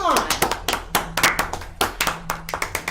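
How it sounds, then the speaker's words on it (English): Hands clap politely in a steady, moderately loud rhythm of about a dozen claps, with a faint low hum and murmuring beneath. "Obriana politely claps in the back"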